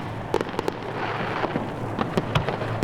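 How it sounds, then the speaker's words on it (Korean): Fireworks burst over a riverside city at night, a string of sharp pops and crackles scattered across the moment, some close together, over a steady background rumble. "화려함에 화려함을 더하는 강변의 불꽃놀이."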